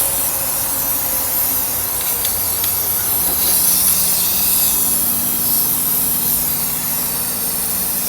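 A fresh aerosol can of spray paint hisses in a long, steady, close spray laying down a thick coat, sustained throughout with no voices.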